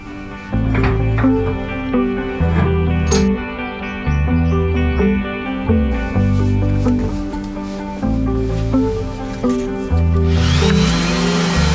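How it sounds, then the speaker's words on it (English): Loud, continuous grinding of a power sander working a fibreglass boat hull, the motor whine holding steady with brief pauses and shifts in pitch. "we have to sand under all the pads"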